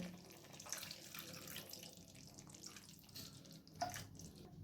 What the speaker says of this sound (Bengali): এরপর আমি এখানে সামান্য পরিমাণে জল দিয়ে দিচ্ছি।